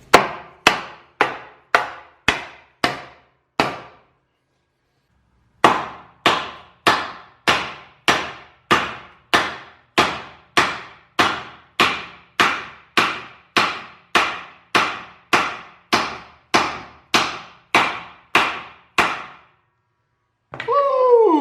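Subframe bushings being driven into a Lexus IS300 subframe with a rubber mallet: about thirty sharp, evenly spaced blows, a short run, a pause of a couple of seconds, then a long steady series, close and loud.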